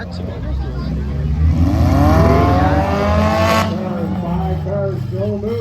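Compact cars grind and rev in a demolition derby arena at the Powassan Fall Fair, engines roaring loud and steady with rising and falling pitch throughout, while an announcer talks over the noise.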